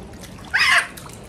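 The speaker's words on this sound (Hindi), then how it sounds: "ये मेरे ऊपर पानी फेंक रही है" A single short splash of water in a swimming pool, close and fairly loud, rising abruptly and fading after a fraction of a second over faint background noise.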